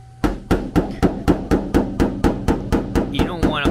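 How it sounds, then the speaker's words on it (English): A hammer knocks dents out of Subaru Impreza body panels, landing about a dozen sharp, loud metallic strikes in a steady, even rhythm at close range. "Let me get my other hammer."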